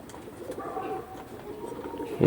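Broad-bodied pigeons give low, rolling coos close by, a continuous murmur with a louder burst at the very end.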